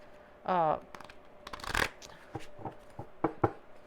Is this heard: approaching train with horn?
no